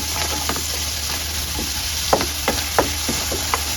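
Sizzling fish curry masala for a Nepali-style fish curry, with turmeric added, fries in a steady close hiss broken by several short stirring scrapes and clicks, without any voices.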